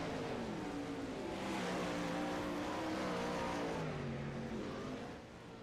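A 410 sprint car engine in a racing sim game drones loud and steady down the front stretch, its rising and falling harmonic whine sustained without a break.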